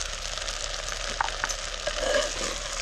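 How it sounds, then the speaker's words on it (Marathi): Rice is stirred and lightly toasted in a hot pan for a festive Gudi Padwa meal, giving a soft steady sizzle with a few scraping stir sounds, close and alone. "थोडासा परतून घेतला तांदूळ"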